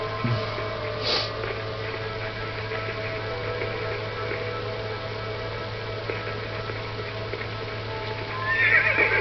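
A stuck horse in Red Dead Redemption whinnies and snorts amid hoof clip-clops, heard over a steady electrical hum and faint background noise.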